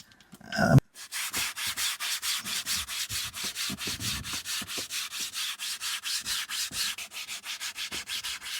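A sponge rubs liquid polish back and forth across a car dashboard in a steady, even rhythm of close swishing strokes, roughly two per second, preceded by a brief louder rustle.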